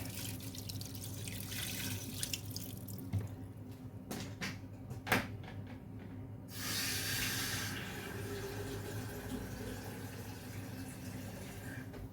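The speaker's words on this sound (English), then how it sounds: "I'll add the water to the pasta." Tap water running steadily into a pot for cooking spaghetti bolognese pasta, a continuous hissing pour in a home kitchen with a few brief clinks and splashes partway through.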